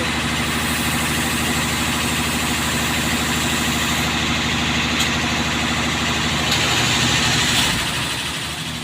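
An old Nissan truck's engine runs steadily and close by, a low rumbling drone with a constant idle throb that swells slightly near the end, and no voices over it.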